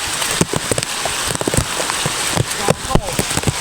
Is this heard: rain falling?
yes